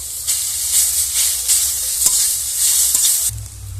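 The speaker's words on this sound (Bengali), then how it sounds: "রসুন ভেজে নিয়েছি এরপরে দিয়ে দেবো করলা দিয়ে দেবো আলু" Bitter gourd and potatoes dropped into a pan of fried garlic sizzle steadily, with a brighter crackling burst near the end as more goes in; no talking.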